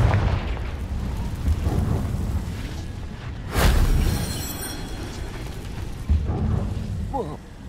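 A Confringo fire spell from Hogwarts Legacy bursts with a sudden loud boom, then rumbles and fades over the game's ambient background, with a second smaller blast near the end and a voice speaking during the action.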